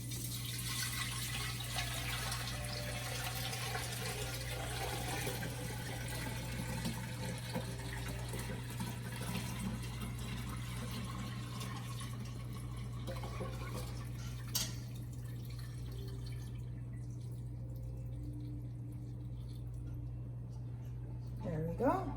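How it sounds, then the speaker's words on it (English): Brewed tea is poured carefully into a kombucha container, a soft steady trickle of liquid under a constant low hum, tapering off near the end. "pour the brewed tea very carefully into my container"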